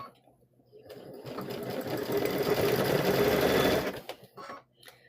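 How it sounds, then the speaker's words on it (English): Sewing machine stitching quilt squares together, one steady close whir that runs for about three seconds and then stops, with no talk over it. "So let's go ahead and sew these together."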